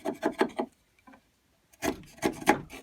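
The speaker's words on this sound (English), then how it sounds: "Or I think it's easier to chisel very carefully." A chisel pares wood on a frame joint in a few crisp rasping strokes: a quick run of four close scrapes, a pause, then another cluster of firmer scrapes near the microphone.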